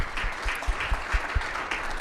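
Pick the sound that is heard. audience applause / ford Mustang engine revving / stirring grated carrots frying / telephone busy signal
audience applause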